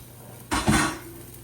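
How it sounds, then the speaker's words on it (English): A spoon clatters against a cooking pot of yellow lentil rice during a quick stir, one short scraping burst of metal on metal, close and fairly loud, then quiet. "Give it a quick stir now before it boils to get the lentils mixed up in there."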